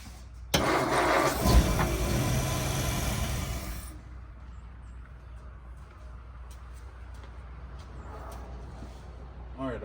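A 1950 Ford Police Special engine cranks and catches on a cold start, running loud and rough for a few seconds before settling to a quieter, steady idle.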